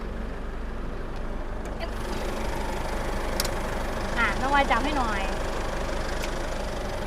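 A 2013 Isuzu D-Max 3.0 DDI VGS turbo diesel pickup engine idles with a steady low rumble while someone speaks briefly nearby.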